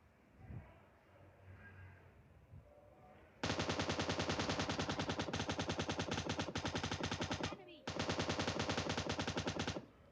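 An M249 machine gun in the mobile game PUBG Mobile Lite fires long, rapid, loud bursts with a short gap between them, after a few seconds of quieter game sounds and faint talk.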